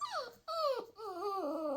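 A puppy whimpers and whines in a few high, wavering cries close by, each rising and falling, with short breaks between them and no talking.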